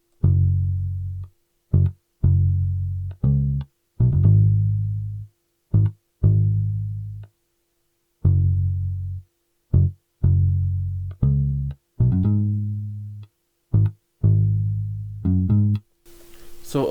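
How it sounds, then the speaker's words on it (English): A virtual 60's P bass from Modo Bass plays a bass line of deep, rounded notes in short phrases separated by gaps, clear and alone. "the name of this bass is called 60's P bass, and it sounds like this"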